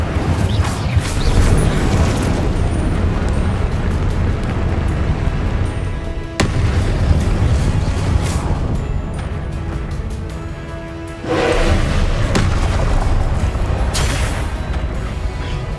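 Confringo and Incendio spells going off in Hogwarts Legacy, loud dense booming blasts and roaring fire bursts layered with battle noise, continuous and close with sharp new impacts breaking in.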